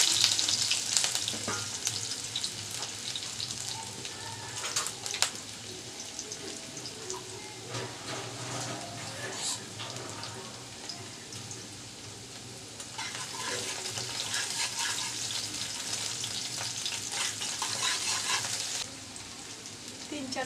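Garlic and a little chopped onion sizzle in oil in a wok while cooking pumpkin greens, a steady close frying hiss with occasional stirring clatter and no talk.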